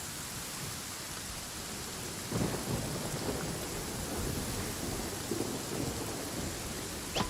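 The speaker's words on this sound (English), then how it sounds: "It always rains when I go on an adventure." Steady rain hiss with rolling thunder rumbles in Genshin Impact, a sharper crack near the two-second mark and another swell later, continuous and without speech.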